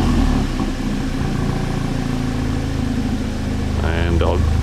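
A car engine fitted with a Milltek catted, non-resonated turbo-back exhaust with black Cerakote oval tips starts and idles in eco mode with the valve shut, a steady, fairly subdued drone that carries on alone until a brief voice near the end.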